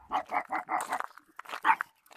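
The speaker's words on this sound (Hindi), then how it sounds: "बड़े बड़े डॉगी को देख के ऐसे गुस्सा कर रहा है कि बहुत ज़ोर से।" A small dog barks angrily on a morning walk at bigger dogs, a quick run of sharp, close barks followed by a second burst.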